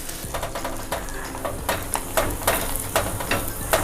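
Pav bread halves roast in butter on a hot pan, with a soft steady sizzle and a run of sharp, regular spatula scrapes and taps against the metal, close up.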